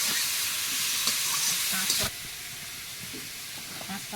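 Banana and potato fry with turmeric in a pan, giving a steady loud hiss and sizzle with a few soft scrapes, and the level drops partway through.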